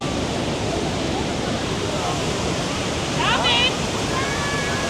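Niagara Falls roars as a dense, constant rush of falling water heard close up, loud and unbroken, with faint chirps and voices briefly rising over it.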